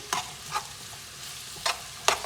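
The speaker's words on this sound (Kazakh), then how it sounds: "Қазір кішкене бір 2 минутта қуырып болайық картопльмен бірге" Potatoes fry in a pan with a soft, steady sizzle, broken by four sharp scraping stirs of a utensil at uneven intervals, close and fairly quiet with no talk.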